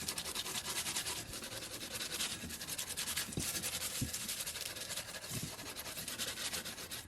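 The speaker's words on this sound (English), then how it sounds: "I'm going to scrub around the outside edge." Plastic bristle nail scrub brush scrubbing foil onto the adhesive edge of a glass plate, a continuous close rasping scratch with a few light knocks, steady and fairly loud.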